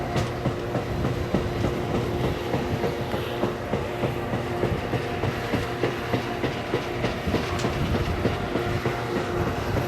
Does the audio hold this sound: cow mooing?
no